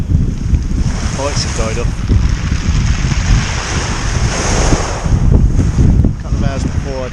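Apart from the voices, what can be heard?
strong wind on the shore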